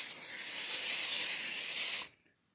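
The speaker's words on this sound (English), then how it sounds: "if you want, you can drizzle them with olive oil, or be like me and just spray them." A spray can mists oil onto bread heel pieces in one steady, loud, close hiss lasting about two seconds, then cutting off abruptly into silence.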